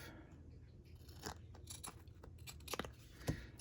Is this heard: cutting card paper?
yes